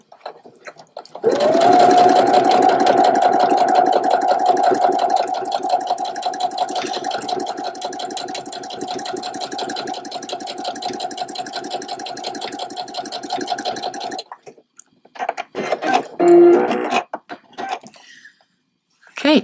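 A sewing machine runs a twin needle through a small piece of fabric in one long, steady, loud whirring stretch, then stops and gives a few short bursts near the end.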